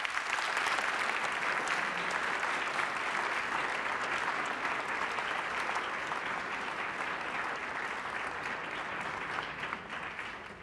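Sustained applause at a school prize-giving ceremony honouring students, a dense, even roar of many hands clapping that holds steady for about ten seconds before easing slightly at the end.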